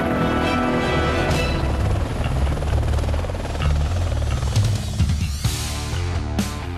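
An Air Force helicopter flies over the Pantanal, its rotor chopping in a loud, steady, continuous drone close overhead, with a rushing swell near the end.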